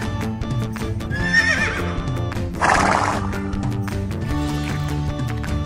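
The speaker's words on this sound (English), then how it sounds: "Brown horse." A horse neighs loudly over a steady musical backing, the whinny rising and falling before a bright burst near the middle, with faint hoof clip-clops.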